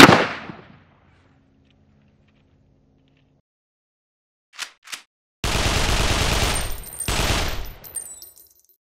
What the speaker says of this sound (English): Today we're gonna shoot my SIG Rattler